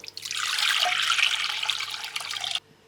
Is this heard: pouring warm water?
yes